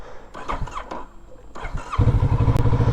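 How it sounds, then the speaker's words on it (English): A Kawasaki Z650RS motorcycle is started with its electric starter, a brief cranking whir followed by the engine catching and idling with a steady, close throb. "Bike starts up really easy, electric start."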